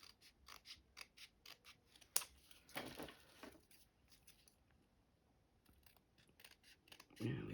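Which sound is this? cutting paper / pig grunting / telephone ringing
cutting paper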